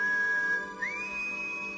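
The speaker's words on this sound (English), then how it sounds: "Yes, it communicates through whistling." An alien creature in the film Mac and Me communicates by whistling: a clear, steady high whistle is held, then breaks into a quick rising glide and settles on a higher sustained note over a faint background, with no talking.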